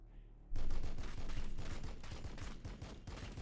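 Bolt rifle fire from Warhammer 40,000: Battlesector erupts suddenly as a rapid, loud volley of sharp cracks that keeps pounding for about three seconds before easing slightly.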